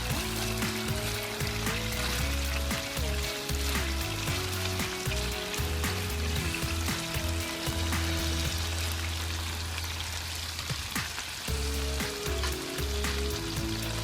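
Prawns frying in a cast iron pan in a sweet chilli and garlic sauce, a loud, dense sizzle that runs steadily from start to end, with a low hum from the kitchen underneath.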